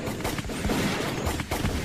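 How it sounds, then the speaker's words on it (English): Rapid bursts of gunfire crackle and boom in a dense volley, loud and continuous with several sharper reports standing out, no voices. "We opened fire."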